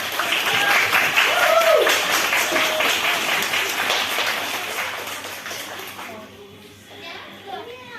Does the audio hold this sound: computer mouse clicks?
no